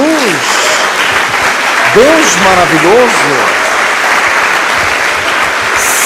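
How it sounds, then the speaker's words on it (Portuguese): A church congregation breaks into loud, sustained applause, dense clapping throughout while a voice speaks over it near the start and middle. "Dê uma salva de palmas a Jesus."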